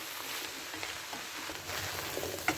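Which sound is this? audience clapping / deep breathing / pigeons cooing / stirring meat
stirring meat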